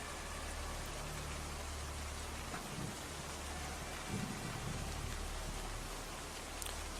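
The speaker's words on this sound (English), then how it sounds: "So I neglected to mention the rainy weather." Rain pours down on a dreary, nearly windless day, a constant broad hiss with a low rumble beneath and a few brief louder swells, unbroken for several seconds and free of voices.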